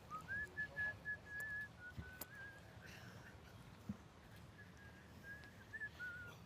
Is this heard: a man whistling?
yes